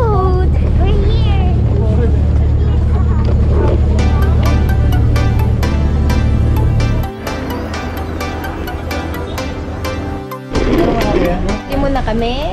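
Loud, droning engine of a boat out at sea near Puerto Galera, with heavy wind buffeting the microphone, a steady roar that shifts partway through, while people talk and shout excitedly over it.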